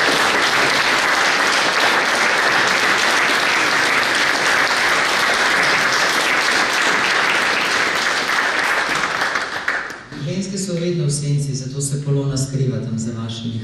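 Sustained audience applause fills a hall at a cultural event, loud and dense for about ten seconds before a voice takes over over fading clapping.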